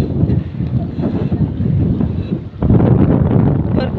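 Wind buffets the microphone as a boat moves across dam water, with a steady rushing roar of wind and waves that grows louder near the end; no clear talk.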